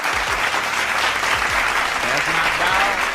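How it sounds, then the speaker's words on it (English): Loud, continuous applause and cheering from a crowd during a sports talk show, dense and steady for the full stretch with indistinct voices mixed in. "y'all clap it up for Henny, man."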